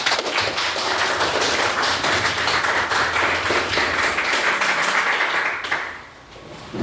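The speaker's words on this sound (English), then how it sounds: "And if we please get a second round of applause for Mr. Topping's maiden speech" A crowd applauds loudly and steadily for several seconds, the clapping fading out near the end.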